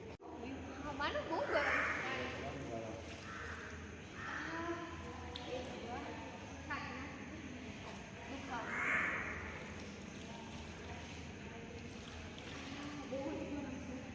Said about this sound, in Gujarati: અહીંયા કાગડા જોઈએ અહીંયા અહીંયા કાગડા છે